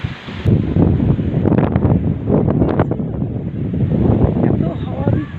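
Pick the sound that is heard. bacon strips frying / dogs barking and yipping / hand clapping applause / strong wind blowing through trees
strong wind blowing through trees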